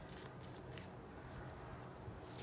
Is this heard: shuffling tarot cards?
yes